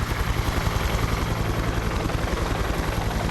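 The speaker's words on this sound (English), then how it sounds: "Are you ready for the loud helicopter sounds?" Loud, close helicopter in Cyberpunk 2077, a steady pulsing rotor thump with dense whooshing wash filling the scene throughout.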